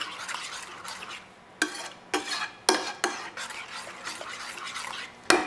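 A spoon stirs butter chicken sauce in a pot, scraping the bottom again and again in brisk, uneven strokes over a faint simmer.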